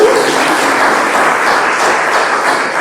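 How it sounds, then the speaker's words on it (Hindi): Audience at a Brahma Kumaris award ceremony in Shahabad Markanda breaks into loud, continuous applause, a dense wash of clapping filling the hall with no speech over it. "अपनी ताली तो बजानी"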